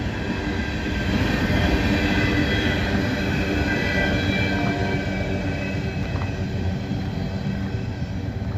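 A steady, loud rumble of a freight train rolling past nearby, with continuous wheel and rail noise and faint squeals throughout.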